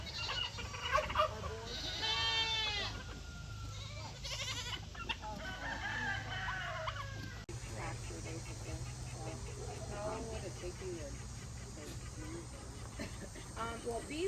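Turkeys gobble in bursts of warbling calls, fairly close, with other poultry noises and a steady background hum.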